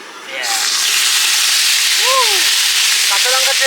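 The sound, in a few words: ginger and cumin paste sizzling in hot oil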